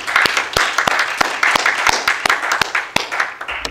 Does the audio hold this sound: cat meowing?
no